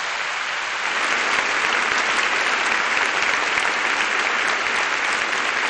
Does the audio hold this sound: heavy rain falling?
no